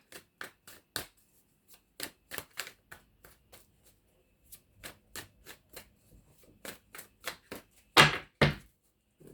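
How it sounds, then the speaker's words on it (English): Tarot cards being shuffled by hand during a reading, a series of short, crisp riffling bursts with gaps between them, close and fairly quiet, with a louder flurry near the end. "So hard to shuffle them."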